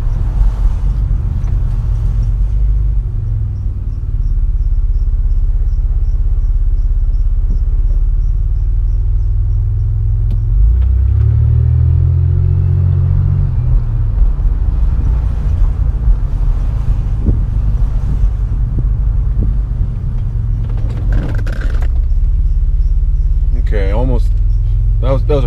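A Chevrolet Impala, 8th-generation W-body, driving and braking hard, with a steady low engine and road rumble, wind noise at the microphone, a rising engine tone midway and a brief tire squeal near the end.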